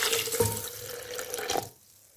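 Water pours steadily into a blender holding cherries and sugar close by, a splashing trickle for over a second before stopping abruptly.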